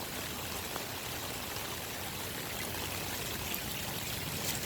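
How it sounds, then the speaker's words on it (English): Floodwater on a street pours and rushes steadily, a continuous broadband wash of flowing water, fairly close and unbroken, with no voices over it. "The other blockage is all the water's coming down right here"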